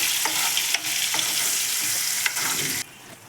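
Onion, ginger and garlic paste fries in a hot pan for chana masala, a steady loud sizzle broken by scraping stirs, with the frying cutting off sharply near the end.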